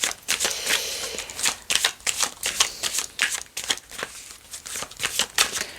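Tarot cards shuffled and laid out on a table, a run of crisp rapid riffling and slapping bursts close by, repeating irregularly for several seconds without speech.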